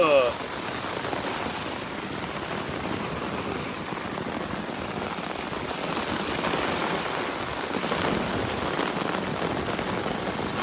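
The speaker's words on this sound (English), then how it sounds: "I just got woken up by a rainstorm." Heavy rain from a rainstorm pours steadily onto a tent, a dense, even patter close overhead that continues without a break, with a brief sound at the very start.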